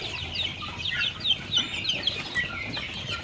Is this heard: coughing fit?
no